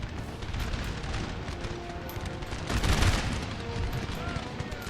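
Musket volleys crackle in a Napoleon: Total War campaign battle with the Darthmod mod as the Russian Empire, a continuous distant rattle of massed gunfire with a louder burst near the middle.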